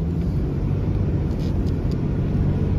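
A 1994 Jaguar XJS convertible cruising down a residential block, its engine a steady low rumble with road and wind noise, unbroken and fairly close for the whole stretch.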